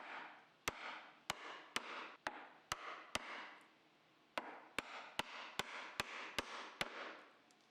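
A chisel is struck repeatedly with a mallet, chopping angled mortise walls and a haunch groove in a wooden cabinet leg: about fifteen sharp, close knocks in an uneven rhythm, with a brief pause midway.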